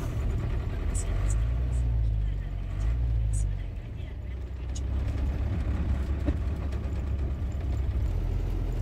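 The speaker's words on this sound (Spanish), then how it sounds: "Terrible la cantidad de tráfico que hay hoy, ¿eh?" Heavy midday city traffic in Buenos Aires, heard from inside a moving motorhome: a continuous low engine rumble and road noise from the surrounding cars, with a few faint clicks and knocks, and people talking throughout.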